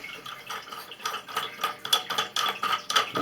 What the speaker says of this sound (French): on va démonter